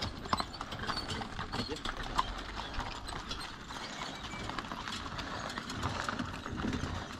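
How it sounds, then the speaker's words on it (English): Horse hooves clip-clop on a mountain trail in the Dolomites, a steady run of soft clatter mixed with the ticking freewheel and drivetrain of an electric mountain bike, with someone speaking in the background. "horse has got spooked"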